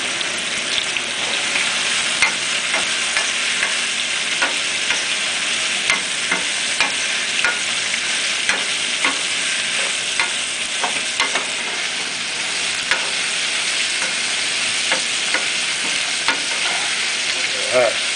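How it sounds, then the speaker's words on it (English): Wooden spoon stirring a pot of soup seasoned with black pepper, a steady moist sizzling bed with soft repeated scraping and clicking strokes throughout, close and unaccompanied by talk. "I'm going to just use your standard wooden spoon, just stir it around a bit."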